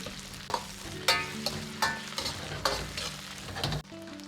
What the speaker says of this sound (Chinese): 接着放入适量的豆瓣酱，炒出颜色，炒出香味